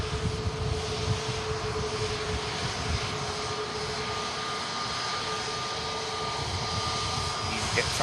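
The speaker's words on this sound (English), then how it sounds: "EasyJet taxiing up right in front of us at the runway visit park" An EasyJet airliner taxis on the runway at Manchester Airport, its steady jet engine roar and whine holding close and loud throughout, with faint voices in the background.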